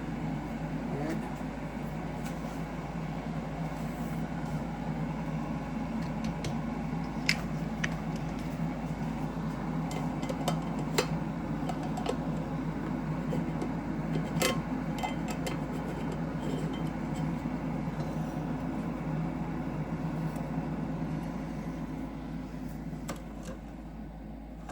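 A Keurig coffee maker runs a hot-water-only cleaning cycle, giving a steady low mechanical hum and whir with faint clinks scattered through, continuous at moderate level and close by.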